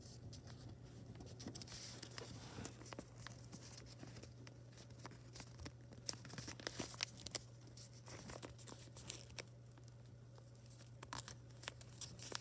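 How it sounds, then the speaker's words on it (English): Paper is folded into an origami boat, heard as quiet, close crinkling and rustling with scattered sharp creases and taps over a low steady hum. No one speaks. "Now fold all corners into the center."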